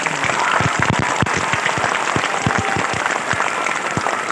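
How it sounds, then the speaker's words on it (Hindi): A large crowd of devotees at a Hindu religious gathering, a mass recitation of the Hanuman Chalisa, applauds loudly in dense continuous clapping throughout, with no talk over it. "अरे भाई जोर से बजाइए ताली।"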